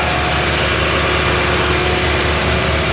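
A Toyota Tundra with a 4.6L or 5.7L i-Force V8 idles steadily, a continuous loud low rumble with constant vibration and no voices.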